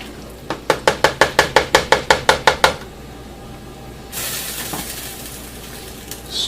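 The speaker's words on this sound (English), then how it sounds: "Mix the meat and the sauce together to keep everything hot." Meat and puttanesca pasta sauce get mixed together in a pan: a quick rhythmic run of about ten sharp clacks of a utensil against the pan, then quiet, followed by a burst of hissing sizzle.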